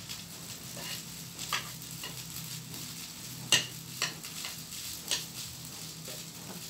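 Lentils and meat sautéing in a pan over lowered heat, with a steady soft sizzle and occasional sharp scrapes and ticks of a utensil stirring, close and fairly quiet with no talking.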